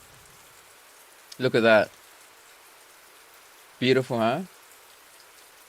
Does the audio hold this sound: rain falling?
yes